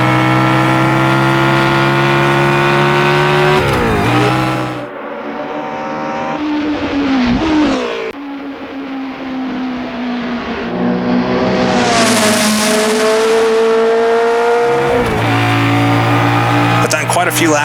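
Race car engine lapping a circuit in Assetto Corsa with World Sportscar Legends cars, loud sustained droning, rising and falling with gear changes and brief lifts off the throttle, under continuous talk.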